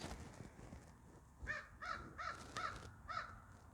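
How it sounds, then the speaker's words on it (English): A crow caws outdoors in a quick run of about five faint calls, evenly spaced over quiet background noise. "We get to hear birds today."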